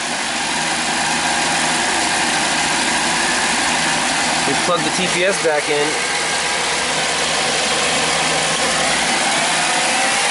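A Buick Grand National's engine idles with a steady, even rumble while someone speaks briefly over it.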